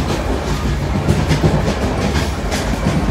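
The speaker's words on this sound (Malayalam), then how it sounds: "ട്രെയിൻ ജീവിതം." A passenger train rolls steadily along the rails, a loud, close, continuous rumble with a rhythmic clickety-clack of wheels over track joints and no voices.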